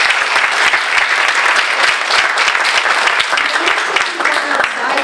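Audience at a chamber of commerce officers' installation breaking into loud, sustained applause, dense clapping from a full room filling the whole stretch.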